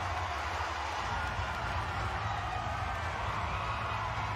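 Stadium crowd at Suncorp Stadium before a Kangaroos versus Tonga rugby league match, a steady loud wash of massed voices and murmur holding evenly throughout without distinct peaks.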